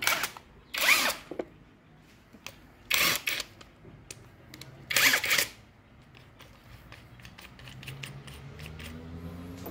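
A DeWalt XR 88-volt cordless impact wrench fitted to run as a drill gives three short, loud bursts of whirring, each about half a second long, separated by pauses with faint background noise.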